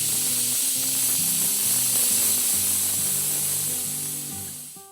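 A pressure cooker hisses with a steady, loud rush of steam, broad and continuous before tapering off at the end, with a faint tonal hum beneath.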